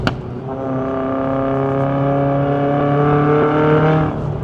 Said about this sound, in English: Here I'm going to do a downshift